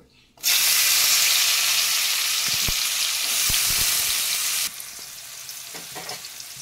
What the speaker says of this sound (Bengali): এবার আমি করলাগুলো ভেজে নেব।